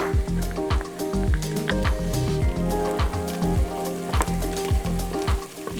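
Onion, garlic and grated fresh ginger sizzle loudly in a pan for butter chicken, a dense steady crackle with wet squishing stirs and no voices.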